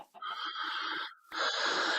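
Chickens in the Minecraft video game give two loud, close clucking calls with a brief gap between them, heard with no talk.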